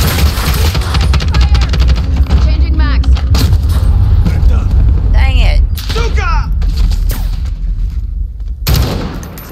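Gunfire in Modern Warfare 2022, with dense, loud bursts of shots and explosive booms running almost continuously. Voices cut through in short call-outs.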